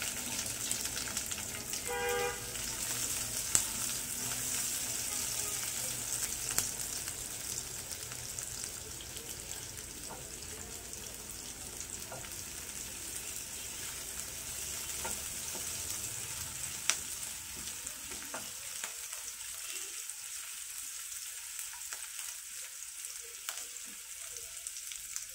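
Chopped onion fries in hot oil in a pan, giving a faint, even hiss of sizzling that stays soft throughout, with a few light clicks of a stirring utensil.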